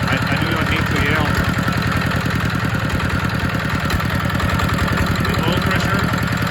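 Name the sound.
ZR185 Chinese diesel engine idling after cold start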